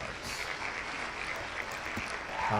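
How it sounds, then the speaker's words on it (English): A short burst of crowd applause sound effect plays after a draft lottery wheel spin for a Madden football league: dense, continuous clapping that rises slightly near the end. "there's claps after each spin"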